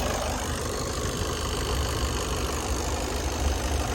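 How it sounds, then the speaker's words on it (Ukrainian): A 2019 Skoda Octavia A7 engine idles under the open hood, a steady even mechanical hum with a light ticking texture, close and continuous without any revving. "Двигун працює чітко"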